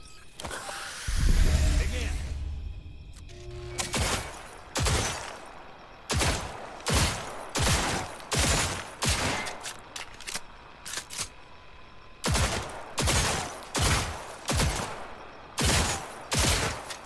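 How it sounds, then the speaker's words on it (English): Revolver shots ring out in Cyberpunk 2077, about a dozen loud sharp cracks fired in quick irregular bursts with short pauses, near and alone after a brief rumble at the start. "Fine shooting, kid."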